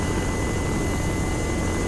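Small helicopter in the video game Arma 3, carrying a sling load, giving a steady, loud, continuous rotor and turbine roar with a faint high whine, alone and unbroken throughout.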